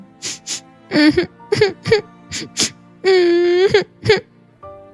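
A narrator's voice imitates crying, with a run of wailing, sobbing moans in uneven bursts, one long drawn-out wail in the middle, close and loud.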